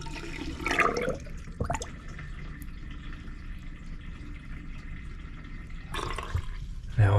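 Water runs from a newly installed bathroom faucet in a woodland cabin, a steady hiss and splash that holds for several seconds between louder gushes at the start and end.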